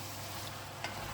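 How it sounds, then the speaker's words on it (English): Steady sizzling of mince frying in a pot, with faint scraping from stirring near the end. "Okay, so basically I'm stirring the pot"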